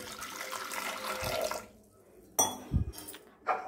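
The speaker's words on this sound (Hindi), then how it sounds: "कुकर में डाल देते हैं थोड़ा पानी," A little water splashes into a pressure cooker in a home kitchen, with a soft pour followed by a few close metallic clinks of the pot, then brief quiet.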